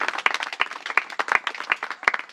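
A church congregation claps hard and loudly in a fast, uneven run of sharp, close handclaps that carry on steadily with no talking.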